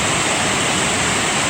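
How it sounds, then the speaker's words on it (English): Upper Cedar Rock Falls, a waterfall of about 10 to 12 feet in Pisgah National Forest, North Carolina, running high after rain, heard up close as a loud, unbroken roaring rush of water. "Cedar Rock Falls is really raging today"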